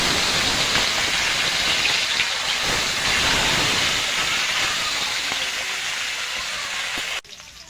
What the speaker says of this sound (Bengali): তেলটা মাছগুলো ভেজে নেব। মাছটা দিয়ে দেব।